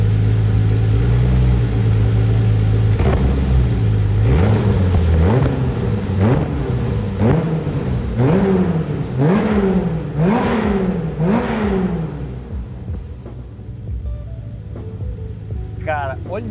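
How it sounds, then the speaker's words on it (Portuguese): A Singer Porsche GTO engine revs repeatedly, each blip rising and falling in a clear sawtooth pattern over a steady idle, loud and close with a mechanical edge, before settling back toward idle. "olha que barulho mecânico, e olha como o giro sobe"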